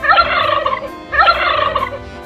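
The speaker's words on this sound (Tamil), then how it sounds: "turkey" A turkey gobbles twice in quick, rattling bursts, loud and close, with a brief gap between them.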